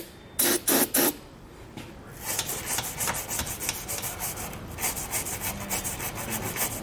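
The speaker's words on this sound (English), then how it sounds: "We grab some penetrating oil and a wire brush and just run this through there and clean it out." Wire brush with penetrating oil scrubbing out threaded bolt holes in the frame of a 2014 Honda CR-V for a hidden trailer hitch install; a few sharp rasping strokes, then steady close scratching and rubbing.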